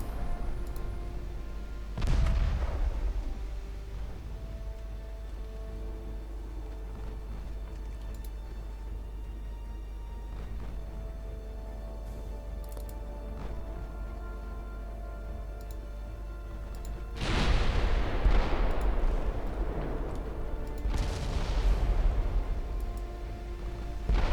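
Warship guns fire in the naval battle game Ultimate Admiral Dreadnoughts, with a heavy boom early on and two more deep blasts later over a low, steady rumble of ambient battle noise.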